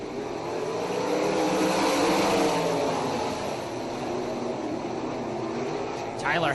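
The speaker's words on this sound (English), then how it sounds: "6 cars, 8 laps the distance, the final qualifying heat of the night for the Cool Kids CorrPAK Sprint Cars" A pack of six 360 sprint cars roars around a speedway oval in the final qualifying heat of the night, a loud, continuous engine howl with rising and falling pitch, with a track announcer talking over the roar.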